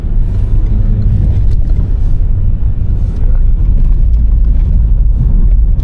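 A car pulling away on a UK driving test route in Cobridge, Stoke on Trent, heard from inside as a loud, steady low engine and road rumble with some wind noise.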